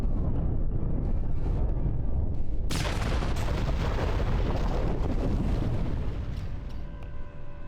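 A sudden loud explosion in Star Trek Online, a sharp blast followed by a long rumbling roar and debris crackle that slowly tapers off over several seconds.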